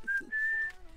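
A person whistles a short tune up close, two brief notes then a longer sustained one, followed by quiet room tone.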